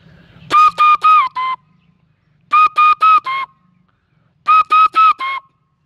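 A man whistles an imitation of a hawk-cuckoo's call: three loud, close bursts, each made of four quick, clipped, rising notes, separated by short pauses.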